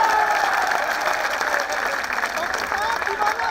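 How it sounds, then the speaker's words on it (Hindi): Loud, sustained audience applause fills a Hindi poetry gathering (kavi sammelan), dense crowd clapping continuing steadily throughout with some voices mixed into the noise. "दोनों हाथ उठा के जोरदार तालियां बजाएं"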